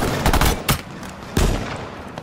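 Several loud gunshots crack in quick irregular bursts during a firefight in H1Z1, close and punchy with short echoing tails between shots.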